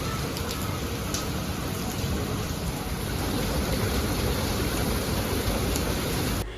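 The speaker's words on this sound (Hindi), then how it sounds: "यहाँ इतने अरसे बाद मैंने इस तरह से बारिश होती देखी थी" Heavy rain falls in Pakistan in a dense, steady hiss of drops pattering on surfaces, loud and close throughout with no talking.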